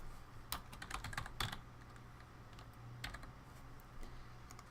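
Typing on a computer keyboard while entering a host name, with quick irregular clusters of close key clicks separated by short pauses.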